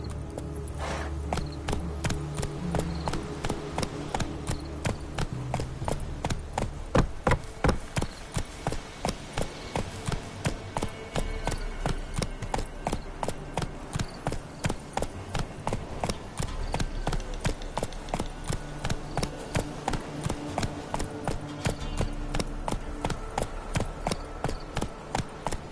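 Roach, the horse in the video game The Witcher 3, gallops on at a steady rhythmic pace, with quick repeated hoof clip-clops over a low ambient bed that continue for the whole stretch.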